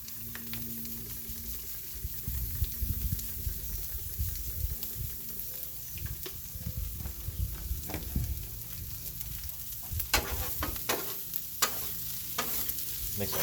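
Corn and seasonings sizzling in butter on a 22-inch Blackstone griddle, a constant low crackling sizzle with occasional metallic scraping and clicks as the food is stirred, no talking.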